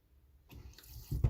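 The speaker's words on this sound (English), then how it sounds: "So the water's on." Water from an American Standard Cadet series kitchen faucet, a unit leaking at its base, flowing under pressure with both hot and cold on. After half a second of silence it starts as a soft splashing hiss that grows slightly louder.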